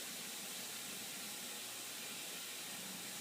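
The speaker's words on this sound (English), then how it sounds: "you can hear the other one in the ultrasonic right now" A steady, even hiss fills the clip, a constant high-pitched noise from an ultrasonic cleaner running with a Stromberg CD175 carburettor part inside, faint and unbroken with no talk.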